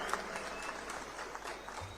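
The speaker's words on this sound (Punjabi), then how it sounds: "ਜ਼ੋਰਦਾਰ ਤਾੜੀਆਂ ਦੇ ਨਾਲ ਇਹਨਾਂ ਦਾ ਸਵਾਗਤ ਹੋਣਾ ਚਾਹੀਦਾ" A crowd claps to welcome leaders at a Congress election rally in Rajpura, a dense, moderately faint patter of applause running throughout.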